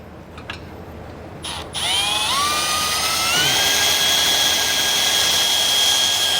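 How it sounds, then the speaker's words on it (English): A high-pitched power drill whines up to speed and keeps running steadily while drilling through a 2012 vehicle's steel frame, with a few short clicks just before it starts. "we're going to be drilling through the actual frame itself here"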